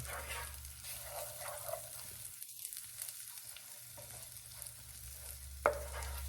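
Minced garlic and onions cooking in a pan, a faint, quiet sizzle with light stirring and a sharp utensil tap near the end.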